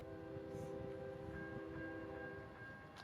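A Tampa to Waycross manifest freight train approaches in Plant City, Florida. A low, steady rumble and droning tones build at a distance, with no horn blast standing out.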